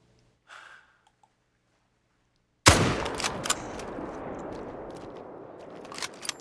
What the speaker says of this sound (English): We'll shoot you.